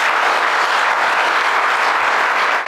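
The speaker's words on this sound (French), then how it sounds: "Applaudissements." Dense, steady applause from a large crowd fills the whole moment, loud and continuous without a break.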